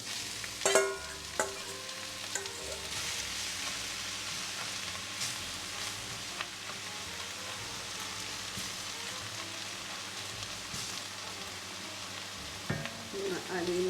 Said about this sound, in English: I've been sauteing this for a little while, and now I'm going to add in my ground beef.